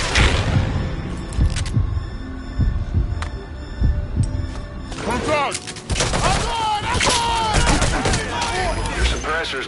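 Suppressed and unsuppressed gunfire in the video game Metal Gear Solid V, sharp shots scattered through a busy battle mix with music and effects, loud bursts clustering near the end.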